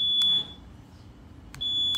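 Two short electronic beeps from the keyless remote finder buzzer of a Honda Vario 150 Old scooter fitted with a custom PCX 160 module, one near the start and one near the end, with quiet in between.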